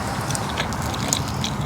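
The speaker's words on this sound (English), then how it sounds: "Some ASMR my chewing." Close-up chewing of a bite of pizza, a steady wet mashing and crunching texture throughout, no talk.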